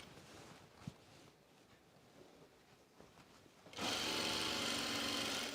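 Sewing machine stitching the center back seam of a pullover camp dress starts up after a quiet stretch, then runs in a continuous loud whir to the end.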